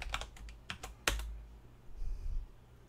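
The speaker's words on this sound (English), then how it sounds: "let me just type it in and hit enter." A password is typed on a computer keyboard during the setup of a Raspberry Pi based Bitcoin node: a quick run of sharp, close keystrokes over the first second or so, then a quieter stretch with faint background noise.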